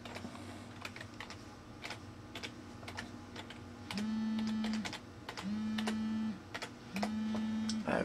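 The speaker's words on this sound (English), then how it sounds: "I've typed in my gamer tag." Fingers tapping out a gamer tag on a computer keyboard, a run of close, irregular key clicks over a steady background hum, with three short tonal beeps sounding in between.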